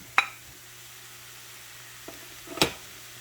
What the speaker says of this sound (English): I'm going to let this cook down for a few minutes